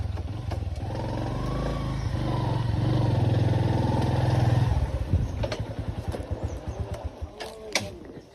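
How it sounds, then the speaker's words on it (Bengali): A motorcycle engine idling close by, rising to a steady revving drone, then settling into a sputtering, uneven putter with clattering ticks as it slows. "হুদয় বাইকটা নিয়ে আইছি।"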